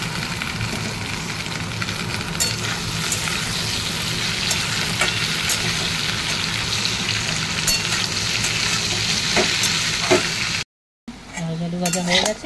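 Potato and okra fry in hot oil in a pan, a constant close sizzle broken by occasional clinks of a utensil stirring, then a short cut and a brief different sound at the end.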